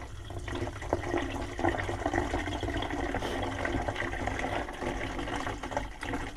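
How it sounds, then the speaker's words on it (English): Water pours from a tap into a container holding sugar for homemade wine, a steady close splashing fill lasting several seconds. "I'm going to put in some water so I can shake up the sugar."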